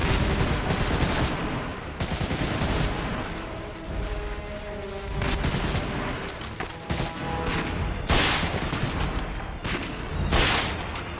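Sniper rifle shots ring out in the World War II shooter Medal of Honor European Assault during the North Africa campaign, as loud repeated cracks and booms over steady battle noise and scattered distant gunfire.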